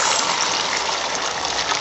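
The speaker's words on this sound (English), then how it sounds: "going to pour in the eggs" Beaten eggs pour into an oiled pan, giving a steady, loud rushing gush that holds without a break for a couple of seconds, with no voices over it.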